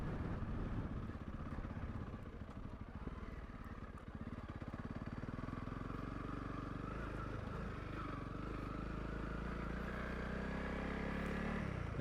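A Honda CRF 300 Rally motorcycle rides along a dirt road, its engine droning steadily with rising pitch and rough wind and gravel rumble, loud and continuous with no talk.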